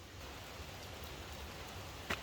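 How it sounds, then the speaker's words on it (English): Light rain falls in an outdoor setting near canal locks, a soft, even hiss of drops that stays faint and steady throughout with one brief tap near the end. "I carried on going, and it is raining. Just a little bit."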